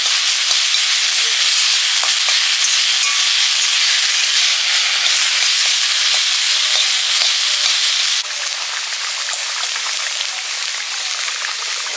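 Washed young neem leaves hiss and steam in a hot, dry wok as their water cooks off, a constant bright sizzle with faint stirring ticks that drops slightly in loudness partway through.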